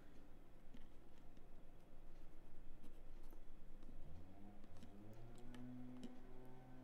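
A pencil marking a spot on a craft piece, faint scratchy strokes close up amid quiet room noise.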